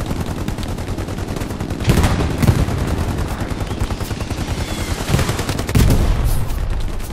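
Gunfire in the World War II shooter Hell Let Loose, rapid repeated rifle and machine-gun shots crackling close by, with a few heavier louder bursts standing out over the din.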